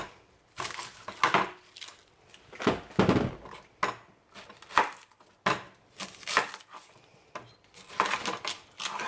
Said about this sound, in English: Chop it up a little bit, get it going.